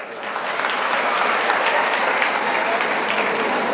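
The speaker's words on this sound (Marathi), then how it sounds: "त्याच्यासाठी जोरदार टाळ्या वाजवा." A large audience at a motivational talk breaks into loud, sustained applause, a dense wash of clapping that holds steady for several seconds with no voice on top.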